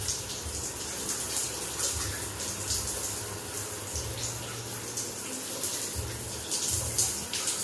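Water pours steadily from a geyser tap into a bath, a continuous hissing gush close by with low intermittent rumbles beneath it and no speech.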